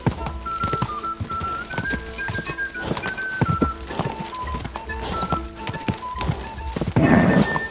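A horse gallops in Kingdom Come: Deliverance II with steady, rhythmic clip-clop hoofbeats and occasional whinnies, close and loud throughout, with a brief louder burst near the end.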